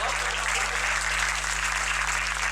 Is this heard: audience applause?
yes